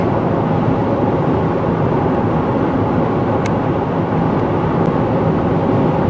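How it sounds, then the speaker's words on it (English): Inside a 2017 Toyota 4Runner cruising on the freeway at 75 mph and about 2100 RPM, a constant broadband roar of road and wind noise runs unbroken, with a faint engine hum underneath and no voices. "We're on the freeway cruising at 75 miles per hour. Pulling 2100 RPM."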